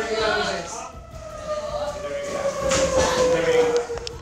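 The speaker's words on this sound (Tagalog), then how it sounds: "Pagtunog ng sirena," A wailing siren for a school earthquake drill in Dagupan City rises and holds a long tone in the distance, heard beneath a reporter's voice and background noise.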